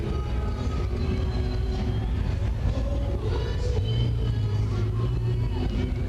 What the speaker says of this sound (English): Looks like we got some sort of 28 Ford pickup coming here